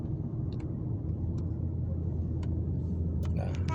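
Steady low engine rumble from a BMW E46 car rolling in slowing traffic with cruise control on, a constant drone from inside the cabin with a few faint clicks and ticks over it.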